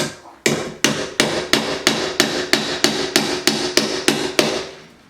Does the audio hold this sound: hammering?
yes